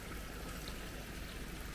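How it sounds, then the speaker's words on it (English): Rainwater rushing through a makeshift sluice gate on a farm in Andalusia, Spain, a constant broadband flowing roar, close and steady throughout the short stretch. "First time the water flows through this new makeshift sluice gate."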